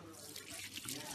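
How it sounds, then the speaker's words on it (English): Tap water runs over soapy hands at a sink during a hand-washing demonstration, a soft steady faucet hiss close by, brief and fairly quiet. "I rinse the soap off with the water."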